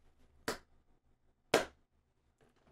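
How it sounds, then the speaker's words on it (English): Three quiet, sharp hand claps spaced about a second apart, each a brief crisp snap alone in near silence. "Little clap."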